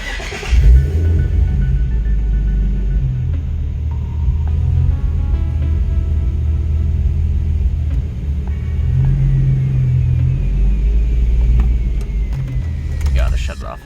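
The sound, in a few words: car engine idling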